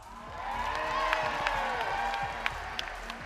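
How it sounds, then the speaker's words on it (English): An audience at the Winners Dance of Fiji 2018 competition final applauds and cheers, a moderate wash of clapping and crowd noise over background music with a few whoops. "A big round of applause"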